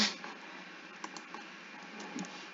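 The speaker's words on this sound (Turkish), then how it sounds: "Kedi klavyede zıplıyor ya." A cat walks and jumps across a computer keyboard during a Minecraft survival session, producing scattered soft key clicks and taps in a quiet room.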